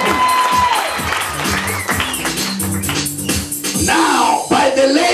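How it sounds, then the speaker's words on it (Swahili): A church congregation claps and cheers for Jesus during a farewell service, a loud, dense burst of applause mixed with shouts and crowd voices that continues throughout. "piga Bwana Yesu makofi"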